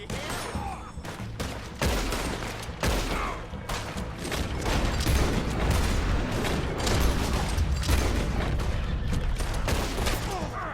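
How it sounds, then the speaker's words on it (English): Shotgun blasts and other gunfire in the Red Dead Redemption 2 Online story mode, with sharp loud reports repeating irregularly through a busy firefight. "¿Estás disparando con escopeta, cabestro?"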